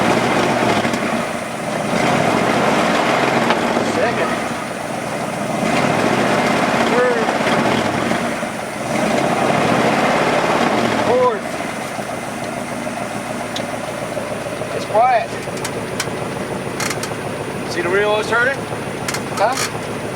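A 1964 Plymouth Barracuda engine revs and drops repeatedly as it shifts up through four gears, steady mechanical drone with rising pitch sweeps, someone talking over it.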